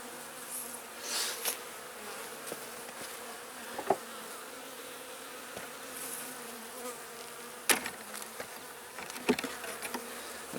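Yellowjackets robbing honey from a dying beehive, a steady close insect buzz with wasps and bees droning continuously and occasional louder passes near the microphone, no talking.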